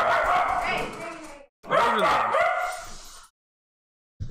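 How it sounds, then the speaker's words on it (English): A house-sat dog barks and yips in two bursts, fairly close and loud, with a broadcast voice talking over it during a live baseball game. "We're house sitting a dog, or we're dog sitting a dog."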